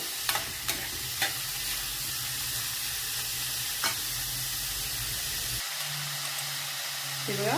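Chopped red amaranth greens fry in a pan with a steady broadband sizzle, punctuated by a few sharp stirring clicks. The sizzle quiets and changes partway through.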